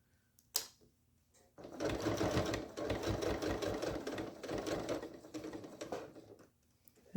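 A domestic sewing machine stitches through a thick zipper bag, a steady rapid mechanical patter running for several seconds after a couple of brief knocks, close and fairly loud, with no talk.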